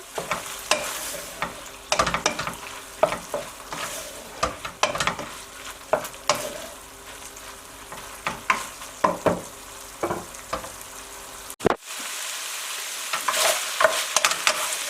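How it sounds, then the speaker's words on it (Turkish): Olive oil sizzles steadily in a pan while a utensil scrapes and stirs in irregular bursts, with a brief pause near the end before the frying hiss resumes. "Yağını koyduktan sonra biraz daha kavuralım."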